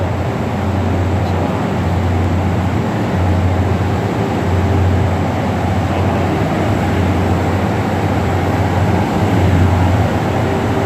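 A four-car Mugunghwa passenger train rumbles steadily past with a continuous low roar and faint rhythmic clatter of wheels on the rails, fairly loud and close.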